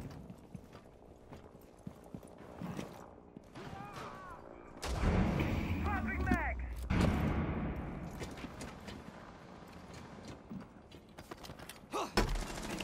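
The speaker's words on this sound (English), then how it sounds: "Ow, I'm being shot through the roof." Gunfire in a video game, with shots coming through a roof: scattered sharp cracks and bursts, some close and loud, others fainter, with mechanical clatter and a louder busy patch in the middle.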